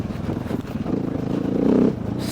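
KTM EXC 450 motorcycle being ridden, its engine a close, steady low rumble that swells slightly as it pulls, with no talk over it.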